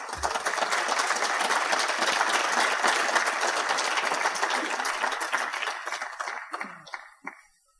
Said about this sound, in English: You're all clapping because this is the last presentation of the evening